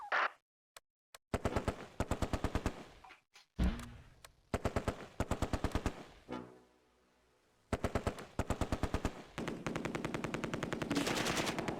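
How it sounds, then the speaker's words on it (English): Repeated bursts of MG42 machine gun fire in the Close Combat war game, rapid rattling volleys of varying length separated by short pauses, loud and close, with other single shots between bursts. "the MG42 has moved to position and fires from the woods into the flank of the company headquarters objective."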